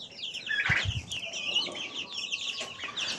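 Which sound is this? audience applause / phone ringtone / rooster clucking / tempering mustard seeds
rooster clucking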